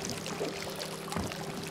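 A man urinating outdoors beside a boat during shallow-water walleye fishing in South Dakota, a short steady pouring trickle of liquid close by over faint background noise.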